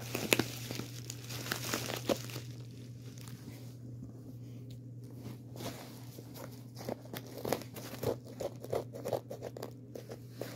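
A mailed package is torn and crinkled open close by, with bursts of rustling and ripping plastic or paper over about ten seconds, irregular and moderately loud, with no speech.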